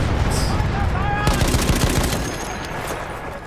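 Rapid gunfire from Battlefield 1 crackles in dense bursts, building into a sustained automatic volley around the middle and then thinning to scattered shots, loud and close throughout.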